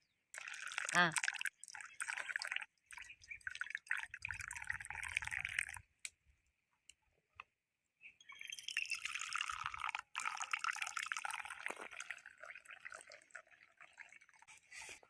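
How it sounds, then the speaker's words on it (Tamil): Tea is poured into tumblers in a steady, close trickle that runs for several seconds, stops, then resumes for a second long pour, with people talking around it. "நீ 1 டம்ளர் ஊற்றிக்க, எனக்கு 1 டம்ளர் ஊற்றி. ஊத்துறேன்."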